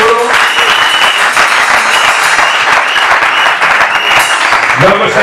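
A church congregation claps loudly and continuously, a thick, close wash of many hands filling the room, with a few voices faintly mixed in near the end.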